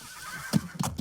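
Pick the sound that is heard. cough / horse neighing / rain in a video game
horse neighing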